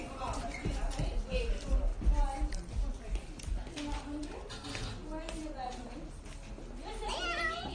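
A child imitates a cat's meow with a few short, mewing vocal calls. They are mixed into busy background chatter and noise.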